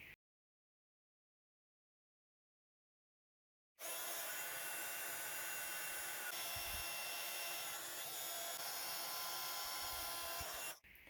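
A handheld heat tool blows hot air to melt embossing powder on pink cardstock. After a silent start, it switches on and gives off a loud, steady, close-up whooshing roar for about seven seconds, then cuts off.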